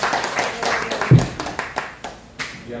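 Congregation clapping hands during a church worship service, a short spell of scattered, uneven claps mixed with some background voices.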